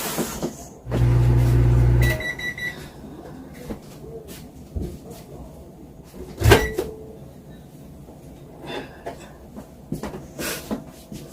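A microwave oven heating cheese and butter for scrambled eggs runs with a loud steady hum for about a second, then stops with a beep-like tone, followed by quieter kitchen clatter and a sharp knock.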